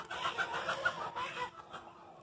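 Several chickens cluck and chatter nearby in quick, uneven bursts, with no talking.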